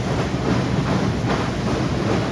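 Funicular train at Malang Gad running along its track, a loud steady rumble and rattle of wheels and carriages heard close up throughout, with no voices.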